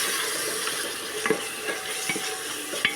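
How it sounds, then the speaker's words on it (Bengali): Ginger-chilli paste and cumin sizzle in a pan for a beef curry while a spoon stirs through them, a steady close frying hiss broken by a few scraping knocks against the pan, no voices. "চলো নেড়িয়ে নিই।"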